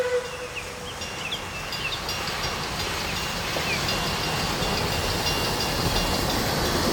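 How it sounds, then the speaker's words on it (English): A train rumbles past nearby at a level crossing in Melbourne with a continuous broad roar of wheels and rail noise, steady and loud throughout. "As I stood there watching the train pass"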